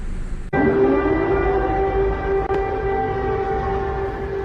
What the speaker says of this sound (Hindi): यूक्रेन की सुबह लगातार खौफ के बीच अलर्ट करते सायरन से होती है।